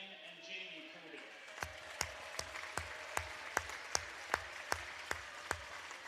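Clapping from the crowd at a high school girls' varsity basketball game, honoring seniors: crisp claps in a steady, evenly spaced beat, fairly faint, over a low murmur of voices in a large gym.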